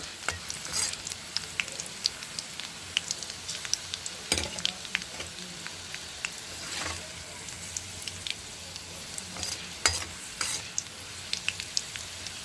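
Garlic fries in hot oil with a continuous crackling sizzle, punctuated by sharp pops and spatters throughout.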